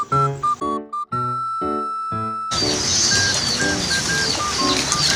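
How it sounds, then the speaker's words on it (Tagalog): Pet birds chirping in a loft, their clear tonal calls first sounding alone in short bursts and then continuing over a louder noisy background of rustling and clatter. "Yung mga ibon ni pare."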